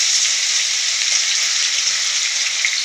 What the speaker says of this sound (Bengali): হালকা মতো ভেজে নেব।